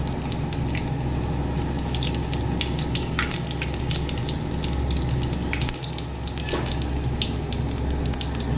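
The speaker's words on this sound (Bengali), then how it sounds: "তেল গরম হয়ে গেছে। তেজপাতা, শুকনো মরিচ, পাঁচফোড়ন দিয়ে দিলাম।" Bay leaf, dried chilli and panch phoron fry in hot oil in a pan, giving a steady crackling sizzle with scattered sharp pops throughout.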